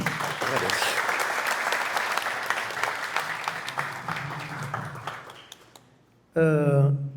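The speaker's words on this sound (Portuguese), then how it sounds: "Uma salva de palmas aí." An audience claps at a podcast's one-year anniversary gathering, a dense burst of applause that slowly thins and fades, followed by a brief loud voice at the very end.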